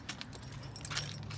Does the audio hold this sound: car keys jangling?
yes